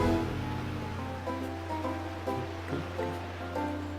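Gentle sea surf at Gateon Port in Pokemon XD: Gale of Darkness, a steady low wash of rolling waves under soft game music, continuous and moderately loud without talk.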